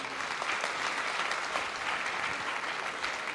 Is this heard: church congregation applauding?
yes